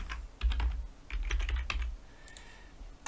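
Keys clatter on a computer keyboard as a name is typed in Rhino with V-Ray, two quick close bursts of tapping followed by a quieter pause.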